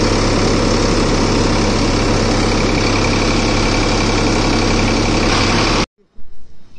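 A Sonalika 745 III tractor engine idles loud and close with a steady low throbbing rumble, then cuts off abruptly near the end, leaving only faint handling noise.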